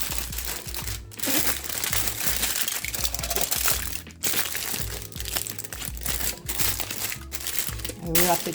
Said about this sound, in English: So now I'll wrap this with foil.